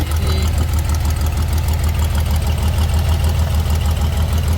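Repaired Dodge Challenger engine running at a steady loud idle, a dense continuous rumble heard close with no talk over it.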